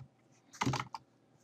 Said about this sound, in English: So you're gonna type in Xboxes,